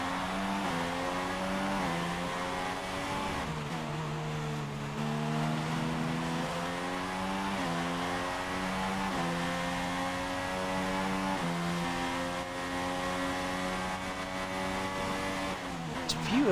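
Red Bull Formula 1 car engine in the F1 2016 racing game, a loud, continuous high-pitched wail rising and falling through gear changes, steady and close throughout with no voices.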